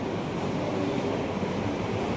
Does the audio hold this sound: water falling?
yes